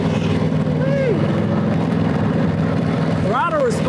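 A 90-year-old 61 motorcycle with a hotter cam, its engine running steadily on a dangerous curvy road, with a loud continuous drone and rising and falling revs while people talk over it.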